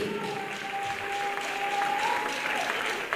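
A church congregation applauds in steady, dense clapping, loud and close, with a sustained musical tone running underneath.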